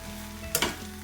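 Vegetable egg fried rice gets a last stir in a hot pan off the heat, giving a brief burst of sizzling and scraping that rises sharply mid-clip over a low background hum.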